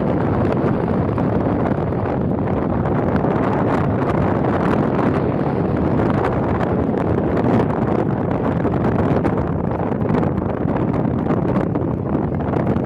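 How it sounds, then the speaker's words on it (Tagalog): Strong wind buffets the microphone, a loud, constant roaring rumble that never lets up, with no clear voices. "Sobrang lakas ng hangin."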